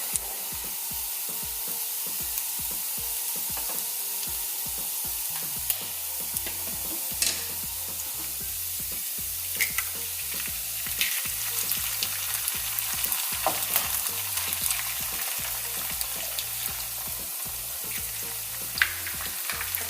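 Vegetables and egg fry in a pan for Maggi noodles, a steady close sizzle broken by repeated scraping and stirring of the pan, with no talking.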